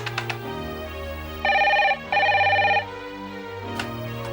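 An outgoing telephone call ringing, two bursts of an electronic ring tone heard clearly through the handset, with a quiet room tone before and after.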